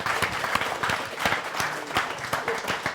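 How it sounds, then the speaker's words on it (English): Audience applauding a speaker at a worldviews debate in a lecture setting, a dense, steady wash of many hands clapping with sharper individual claps standing out, moderately loud and continuous throughout. "Let's go ahead and give him a round of applause."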